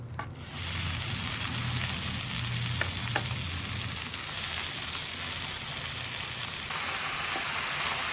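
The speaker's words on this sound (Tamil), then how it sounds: "அந்த பச்சை கொஞ்சம் மடங்குற வரைக்கும் வதக்கினா போதும்" Sorrel leaves (puliccha keerai) sauté in a pan with a steady, even sizzle that runs unbroken and close throughout, with a few faint stirring taps mixed in.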